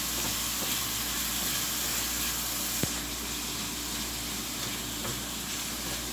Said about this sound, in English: But I'm going to let mine saute for a little bit